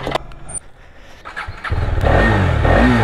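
A KTM Duke motorcycle engine fires up after quiet handling sounds, settling into a loud, steady near idle with a low rumble and slight revving.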